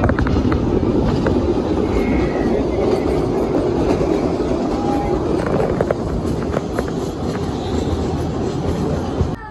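Howrah–Kalka Netaji Express running through a station, a loud steady rumble and rattle of the moving train heard from on board, continuous throughout.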